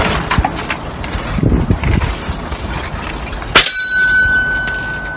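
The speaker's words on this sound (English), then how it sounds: "hit the bell, and it rung it" A shot bead from a gun strikes a metal bell with a sharp single impact, leaving a clear ringing tone that sustains and slowly fades after some earlier low rustling and handling noise.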